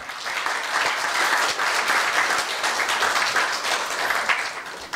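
A dense, even round of applause fills a university staff retirement ceremony as flowers are presented, sustained by a large audience throughout.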